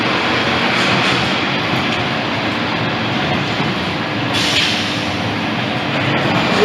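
Passenger train in Montgomery County rolls past with a continuous loud rumble and rush, the noise steady and close throughout with a slight brightening near the end.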